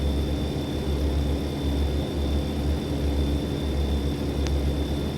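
Steady low engine drone from a truck cruising at highway speed uphill, loud and continuous throughout, with a constant whine above it and no clear pauses.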